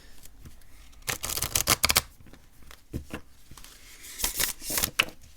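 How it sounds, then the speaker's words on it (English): Tarot cards from a new Spectrowhirl deck being shuffled by hand, bursts of crisp riffling and flapping card edges coming in several close, fairly loud clusters with short pauses between. "Let's give them a shuffle."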